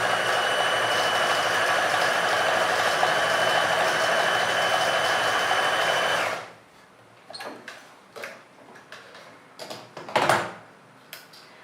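A sewing machine stitches fabric in one continuous run of whirring, rattling motor noise, then stops abruptly and leaves scattered clicks and rustles as the cloth is handled.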